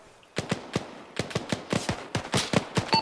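Rapid bursts of rifle fire crack out in ArmA 3, a dozen or so sharp shots in uneven clusters, some near and loud, others slightly softer, with no talking over them.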